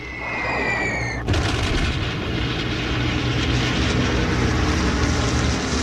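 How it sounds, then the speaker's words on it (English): Wartime bombing of cities in northern and eastern France in World War II: a descending whistle cuts into a heavy blast, followed by a loud, sustained rumbling roar of explosions and aircraft noise. "Cities in northern and eastern France are bombed."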